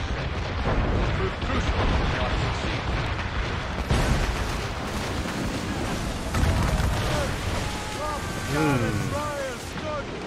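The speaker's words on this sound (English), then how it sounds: "Sinking everything I can with mortars right now." Ship-mounted mortars firing in the naval combat of Assassin's Creed Rogue, a dense, continuous barrage of booms and blasts with someone speaking over parts of it.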